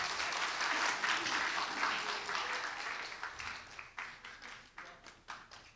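An audience at a Friday church gathering gives a round of applause that starts as a dense wash and thins into distinct, rhythmic individual claps as it fades.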